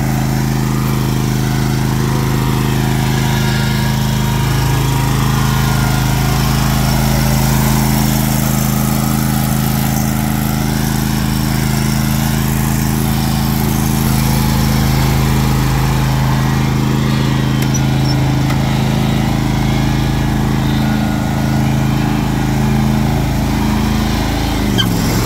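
A tractor lawn mower with a freshly sharpened blade cuts thick grass, its engine droning loud and steady with a constant low hum throughout, no voices over it.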